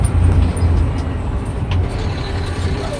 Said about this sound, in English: There's the water truck.